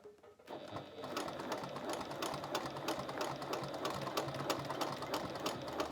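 A sewing machine topstitches fabric slowly around a curve on a bag body, starting after a brief pause and then running in a steady, continuous mechanical whir.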